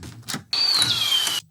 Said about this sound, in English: So the door squeak reveals the fade up of the Forest Day sounds.